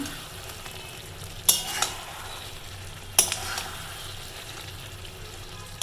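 Mutton cooks in a pot in a home kitchen, a low steady simmering hiss with two sharp clinks of a lid or utensil against the pot and softer rattles after each.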